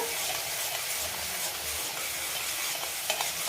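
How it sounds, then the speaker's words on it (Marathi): A raw paste fries in a pan while being stirred until golden, with a steady, dense sizzle and occasional scraping of the spoon throughout. "गोल्डन रंगावर भाजून घ्यायचे कारण आपण आधी शिजवलेले नाही आहे पेस्ट"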